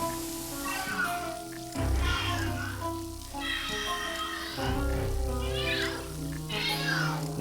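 An angry cat meows repeatedly in a Luigi video game, drawn-out yowling calls rising and falling over a game soundtrack, loud and close with short pauses between cries.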